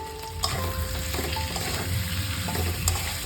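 Potatoes stir-fry in a pan with salt and a little sugar for a raw plantain curry. A loud, continuous sizzle is broken by scraping stirs of the spatula.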